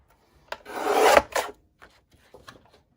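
A paper trimmer cuts cardstock with a single rasping slice of about a second, followed by a shorter scrape and a few faint taps and handling clicks, close and with no talk.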